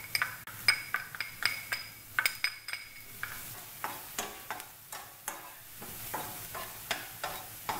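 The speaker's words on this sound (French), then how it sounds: "Je fais revenir mes oignons." Onions sizzle softly in olive oil in a pan while a utensil knocks and scrapes in a regular rhythm, the clinks sharper than the faint frying beneath them.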